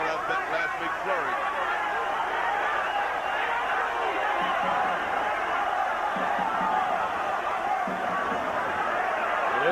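A boxing arena crowd in Quito roars steadily for Ecuadorian fighter Segundo Mercado, a continuous loud wash of cheering and babble with a commentator talking over it.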